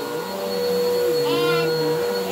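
A household vacuum cleaner runs close by with a steady, loud motor whine that holds level throughout, with a brief shift in pitch partway as a German Shepherd reacts to it.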